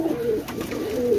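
Pakistani high-flying pigeons coo in their loft, a close, low rolling coo running through the short moment with no voices.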